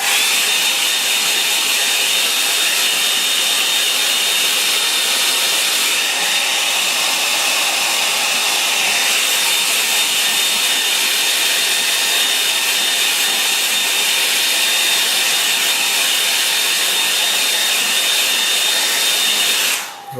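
Hair dryer blowing on a watercolour painting, a loud steady whooshing roar with a thin whine running for about twenty seconds before cutting off abruptly at the end.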